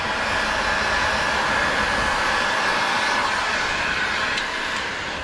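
Heat gun blowing hot air onto window tint film on the windshield of a 2002-2009 Dodge Ram, a steady close airy roar held for several seconds without talking.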